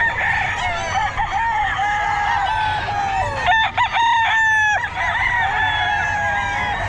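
A Sweater gamefowl rooster crows repeatedly at a busy pet market, loud and close, its strained calls overlapping with other birds and clucks against a steady crowd murmur.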